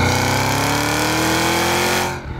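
A Cadillac CT5-V Blackwing V8 revs loud and close, a dense rising engine roar that climbs steadily in pitch and then cuts off abruptly at the end, alone without talk.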